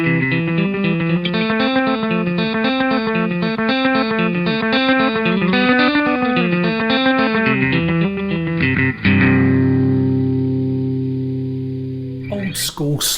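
An electric guitar runs through an MXR Carbon Copy analog delay pedal, playing a repeating riff with echoed notes, then a held chord that rings out and decays before a final scrape.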